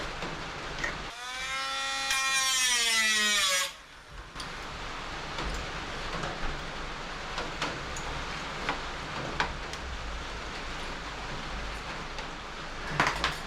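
A grinder running during restoration of a 1978 MGB GT classic car, a loud whining motor burst of a couple of seconds that winds down, followed by quieter workshop clatter and light knocks.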